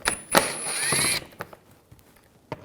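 A ratchet with a T25 socket takes out screws beneath a 2011-2018 Volkswagen Jetta TDI wagon during windshield washer reservoir work, a whirring burst of ratcheting followed by scattered faint clicks and taps.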